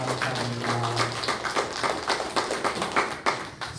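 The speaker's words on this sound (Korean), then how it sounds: "우리 하나님께 감사와 영광을 박수로 올려드리겠습니다." Worshippers in a Sunday church service clap together in praise, a brisk run of sharp, fairly close hand claps with an uneven rhythm that keeps going for a few seconds.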